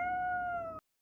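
Single drawn-out cat meow from a video game, clear and close, a steady tonal call lasting most of a second before cutting to silence.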